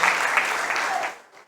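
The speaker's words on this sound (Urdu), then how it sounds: "یہ تالی بجائے گی" Church congregation applauding together, a dense steady wash of clapping that holds evenly and then tapers off into quiet near the end.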